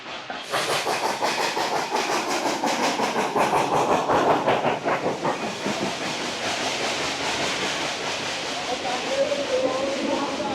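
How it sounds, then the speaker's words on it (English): The Dollywood Express steam train rolls past up close with rapid, rhythmic clickety-clack of wheels over rail joints and a broad hiss, loud throughout. "I hear the Dollywood Express train working its way down the track."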